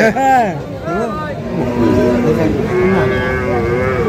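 Local deshi cows and calves moo repeatedly at the Kochabari cattle haat in Thakurgaon district, with loud, drawn-out calls rising over a busy crowd murmur and nearby voices talking.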